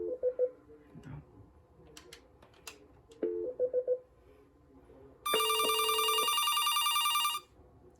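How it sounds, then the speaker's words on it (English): A Hamburger-shaped landline telephone rings, its electronic ringer chirping in one sustained, loud burst after scattered keypad beeps and short tones. "I'm going to show you guys the ringer."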